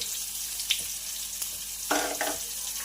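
Spring onion, cumin, sesame seeds, garlic and chilli frying in oil, a steady close sizzle with a brief spatter early on and a louder burst of hissing late in the clip.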